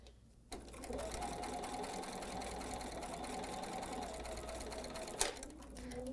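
A Bernina sewing machine stitches a seam in a quilted table topper, a steady rapid mechanical whir that starts sharply, runs evenly for several seconds, then ends with a brief clack as it stops.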